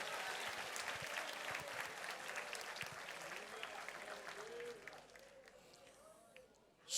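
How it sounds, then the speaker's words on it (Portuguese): A large church congregation claps steadily and loudly, the applause thinning slightly toward the end before a sudden loud sound. "aplauda e glorifique bem forte ao Senhor"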